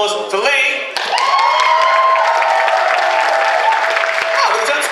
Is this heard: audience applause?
yes